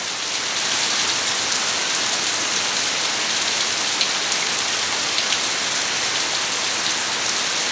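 A steady heavy downpour roars without pause during flooding in Bangladesh, thick hissing rain drumming on nearby surfaces, with occasional louder drops standing out.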